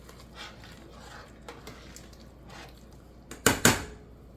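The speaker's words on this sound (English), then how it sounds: "Give it a little stir" Tuscan soup is stirred in a pot, with soft scraping and faint clinks, then two sharp, close metal knocks of the spoon against the pot near the end.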